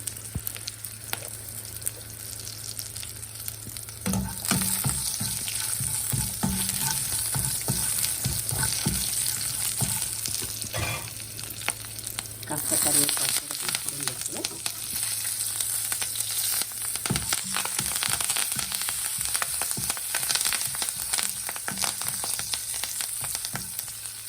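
Cashews, destined for a crispy okra and cashew fry, sizzle in hot oil as a continuous bright hiss, broken by occasional stirring clicks and scrapes of a spoon in the pan; steady and close, no speech.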